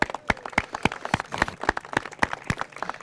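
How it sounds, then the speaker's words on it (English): Scattered hand claps from a small audience at an outdoor basketball historical marker dedication in Meadowood Park, sharp separate claps in an uneven rhythm, fairly close and moderately loud, with no talking over them. "Let's give yourself a nice round of applause."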